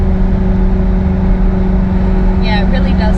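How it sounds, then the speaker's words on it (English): A 2003 Ferrari 360 Modena's exhaust roars while driving, a loud, steady engine drone that stays even throughout, with a brief burst of higher-pitched sound near the end. "definitely get it out, listen to the exhaust roar"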